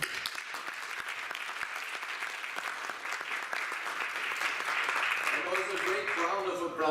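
An audience at a youth entrepreneurship event claps steadily after closing remarks, a dense sustained round of applause that grows slightly toward the end, with a voice speaking briefly over it.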